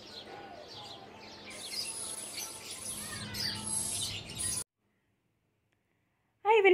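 Chirps and squawks from different kinds of birds overlap in a busy outdoor chorus, fairly faint, before cutting to silence and a brief louder burst at the end.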